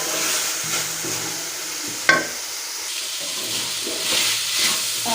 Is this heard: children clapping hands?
no